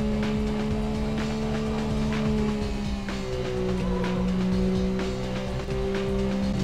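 A racing car engine drones steadily at high revs in a PlayStation 1 racing game running on the DuckStation emulator, with shifting engine pitch and faint tire squeal, loud and continuous without talk.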